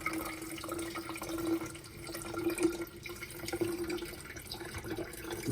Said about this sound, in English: just kind of get the beans a little bit wet and then pour the rest of the water in here